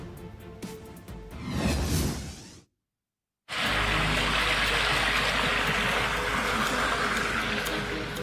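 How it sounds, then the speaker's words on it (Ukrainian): Sewer water gushes from manholes and floods a residential courtyard in the Obolon district of Kyiv, making a loud, steady rushing roar that follows a brief swish and a short silent gap. "Фонтани з каналізаційних люків, що перетворили двір на річку."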